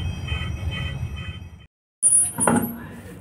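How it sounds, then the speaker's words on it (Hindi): Maruti Ciaz wheel with a worn brake disc and pads gives a steady rumbling grind, drops briefly to silence, then returns with a loud, sharp metallic squeal. "व्हील में आवाज़ है बहुत ज़्यादा"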